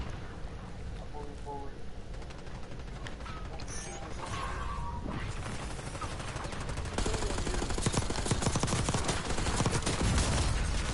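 Call of Duty multiplayer gunfire rattles in dense, continuous bursts of shots that grow louder and heavier partway through, with clanking weapon mechanics mixed in.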